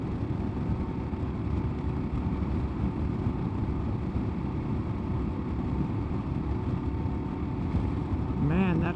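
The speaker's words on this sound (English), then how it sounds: "that high-pitched tyre whine is really pronounced now. It's not competing with the wind noise." A KLR650 motorcycle fitted with a windshield riser under way, giving a steady loud engine and exhaust drone with road and tyre noise throughout, with no obvious talk over it.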